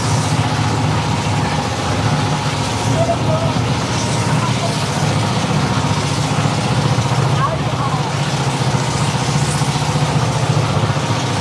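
A small trawler boat's engine drones loudly and steadily throughout, a continuous close mechanical rumble with muffled voices mixed in, while heading toward a passenger launch on a river in Bangladesh.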